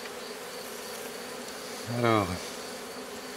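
Honeybees at an open hive in an apiary hum in a continuous, steady buzz throughout, with someone briefly speaking a single word midway over it.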